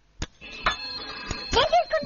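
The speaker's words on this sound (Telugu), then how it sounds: "గీతకా, నీకే ఫోన్." A telephone rings in short bursts among clicks and handling noise, with a voice speaking briefly nearby.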